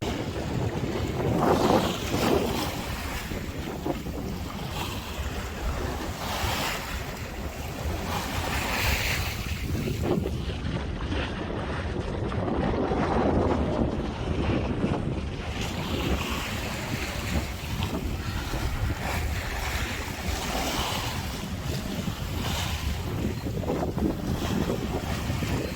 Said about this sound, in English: Now we're sailing, Ava.